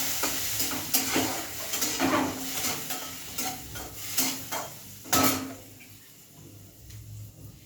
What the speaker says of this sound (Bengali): অল্প তেল দিয়ে চিংড়ি মাছটা ভেজে নেব।